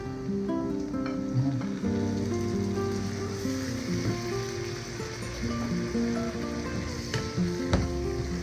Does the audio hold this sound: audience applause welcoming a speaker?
no